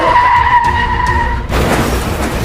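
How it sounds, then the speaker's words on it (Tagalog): A car skidding on the road, a sustained tonal tire squeal that cuts off abruptly into a broad noisy burst, with no speech. "Yung sasakyan nagkabanggaan."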